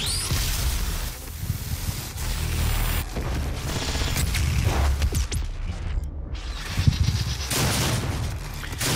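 A frag grenade blast and rapid gunfire from the video game DOOM make up dense, loud bursts of shooting, with a heavy boom near the middle and continuous clattering fire around it.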